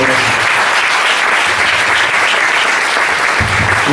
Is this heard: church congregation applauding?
yes